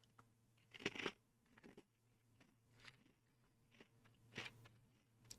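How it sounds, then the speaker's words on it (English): Crunchy Vanilla Cupcake Goldfish Grahams are chewed close up, giving a few sharp bites and quieter crunches spread over a few seconds in a quiet room. "It's crunchy, but easy to chew."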